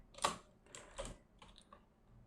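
Quiet typing on a computer keyboard while entering C++ code, a few short clusters of soft key clicks with brief pauses between them, close and alone.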